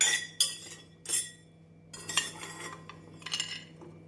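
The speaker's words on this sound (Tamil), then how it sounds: "நாம் பிஸ்தா பருப்பை வறுத்து விடலாம்" Pistachios roasting in a pan get stirred with a metal spoon, giving a few bright clinks and scraping rattles in short separate bursts, close and clear over a low steady hum.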